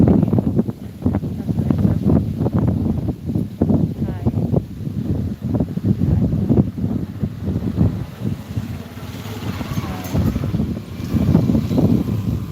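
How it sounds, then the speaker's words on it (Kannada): Strong wind buffets the microphone outdoors, a loud continuous rumbling roar that swells and dips throughout, with a person speaking underneath at times. "ತುಂಬ ಗಾಳಿ"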